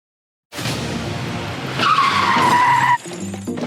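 Truck tires skid before a crash: a loud, close rush of engine and road noise rises into a long, sustained tire squeal that cuts off abruptly, leaving a rumbling aftermath.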